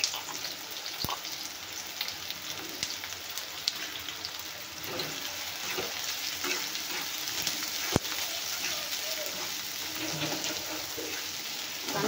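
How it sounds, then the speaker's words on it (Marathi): Finely chopped onion fries in hot oil for a dried prawn chutney, giving a steady, close crackling sizzle with scattered pops and occasional sharp ticks and no talk throughout. "आपल्याला तेलामध्ये छान लाल होईपर्यंत भाजून घ्यायचं आहे।"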